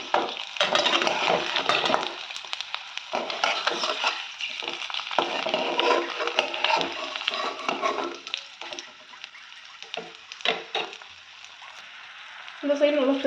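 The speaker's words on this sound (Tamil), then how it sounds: "இந்த சைடு நல்லா ஃப்ரை ஆகி வரட்டும்" An egg fries in a pan with a steady crackling sizzle, close and clear. The hiss comes in uneven bursts that rise and dip as the egg is turned or stirred, with a few light scraping touches.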